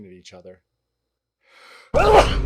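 A person sneezes, loud and sudden, after a short spoken phrase and a brief pause with a faint inhale before it.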